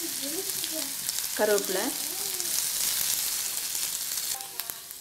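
Sliced onion and curry leaves sauté in hot oil for a smoked brinjal thokku, giving a steady close sizzle and frying hiss throughout, with brief stirring and a voice speaking over it.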